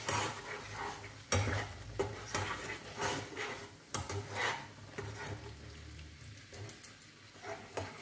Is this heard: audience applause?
no